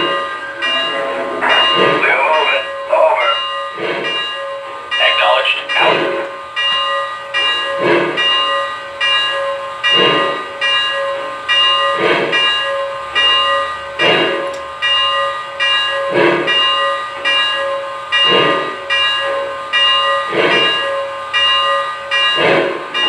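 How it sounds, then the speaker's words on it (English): The bell of a Lionel Legacy Southern Crescent 4-6-2 Pacific model steam locomotive rings steadily and loud, struck about once a second in an even clang, with the locomotive's running sounds behind it and no voices. "the locomotive will start moving, the bell will come on automatically and stay on until we reach speed step 24"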